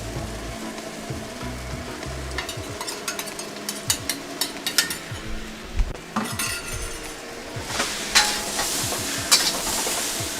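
Sauce mixture hits a hot cast iron skillet for kimchi fried rice and sizzles hard, with repeated scraping stirs and utensil clinks against the pan building toward a louder, brighter hiss near the end.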